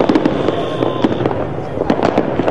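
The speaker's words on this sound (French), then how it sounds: "les premières secondes de l'année 2012 sont célébrées ici avec une parade de feux d'artifice" New Year fireworks on Boulevard de l'Indépendance burst in rapid crackling pops and bangs, a dense loud barrage with overlapping explosions and faint crowd noise beneath.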